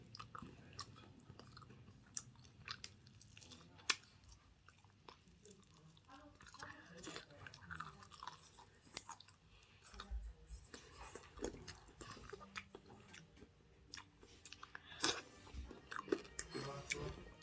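Close, quiet chewing and biting of fried chicken, with soft wet squishes and occasional crunches scattered irregularly across a long stretch, heard without talk.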